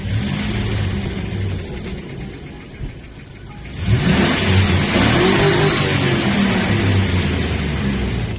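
A truck's damaged 6.0L LS V8 engine revs loudly and close by, a steady rumbling idle that swells into a sustained, rising rev in the second half.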